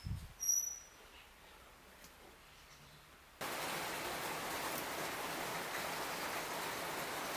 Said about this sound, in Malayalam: പിന്നെയും മഴ. ഇത് രണ്ടാമത്തെ മഴയാണ്.